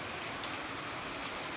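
Steady rain falls in an even, dense hiss with no breaks, close by and alone, with no voices.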